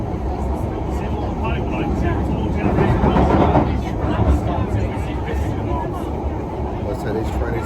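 A London Underground Piccadilly line train running through the tunnels, giving a loud, continuous rumbling roar with rattling wheels that swells slightly midway, a crowded carriage's faint murmur beneath it.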